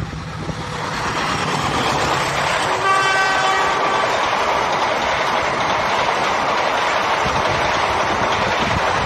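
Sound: KA247 Logawa passenger train passing a level crossing

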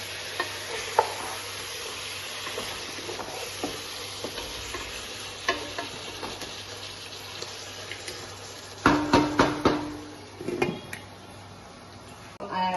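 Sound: meat cooking and being stirred in a pot for biryani

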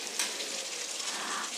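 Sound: onions frying in oil for rajma masala

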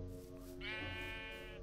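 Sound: sheep bleating in a video game

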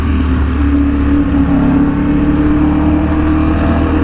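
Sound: Ducati Panigale V4R motorcycle engine

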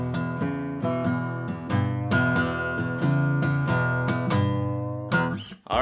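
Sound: blues shuffle played on guitar

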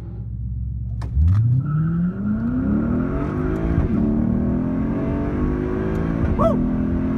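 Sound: Mercedes C43 AMG racing a Lexus ISF, accelerating

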